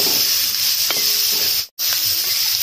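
Onions and green chillies sizzle in a pan for a Kerala potato curry, a loud close hiss with a few light stirring clicks and a momentary drop to silence partway through.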